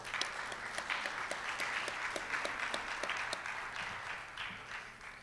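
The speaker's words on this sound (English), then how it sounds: "Let's give them a round of applause, too." Audience applause at a Rotary Club meeting, a moderate room of many hands clapping steadily at a soft, slightly distant level, holding fairly even for about five seconds without speech.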